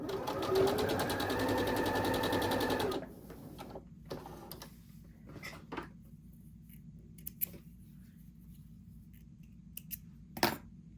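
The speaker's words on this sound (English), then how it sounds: "Run a 1/4 inch seam." A sewing machine runs a quarter-inch seam while piecing a pinwheel quilt block, a fast, steady whirring stitch close by for about three seconds, then stopping; faint clicks and handling noises follow.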